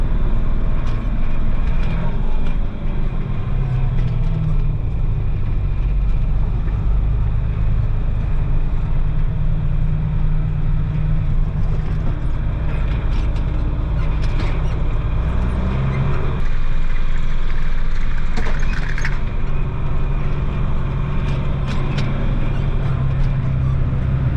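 A car rolls through a corner on a drive through a small town, with steady loud engine and road rumble throughout and a brief change in tone partway through.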